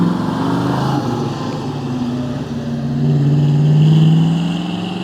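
A 1969 Ford Mustang Boss 302 pulls away, its V8 engine droning loud and steady before the revs climb and swell near the end, with no voices over it.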